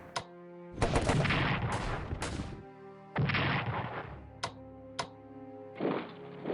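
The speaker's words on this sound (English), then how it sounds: "And artillery is doing work." Artillery fire in the WWI strategy game Strategic Command: loud bursts of gunfire and booming shots in several clustered volleys, with sharp isolated cracks between them.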